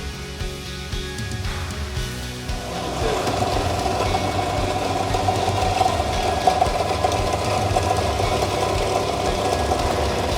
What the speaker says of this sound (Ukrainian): вмикаємо наш верстат